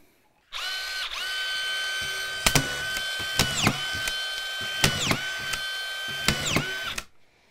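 A Dewalt DCF620B cordless drywall screw gun runs in a steady whine, broken by five or six sharp clutch-ratchet bursts as screws are driven and the bit disengages, loud and close with no talk.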